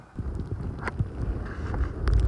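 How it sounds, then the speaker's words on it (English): Gusty wind buffets the microphone with low rumbling bursts at an early-morning winter ice fishing camp on a lake, rising toward the end, with faint clattering in the background. "Windy."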